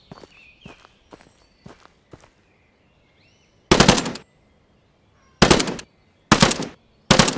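Bursts of assault rifle fire in an open world survival video game, four loud separate volleys of rapid shots following lighter footstep-like taps and a quiet pause.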